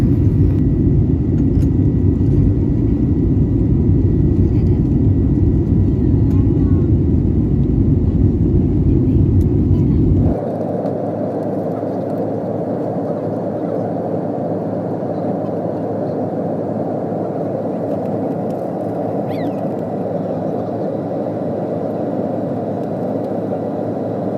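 Steady low engine roar fills an airplane cabin just after takeoff at night, shifting abruptly to a quieter, smoother hum partway through, with no talking.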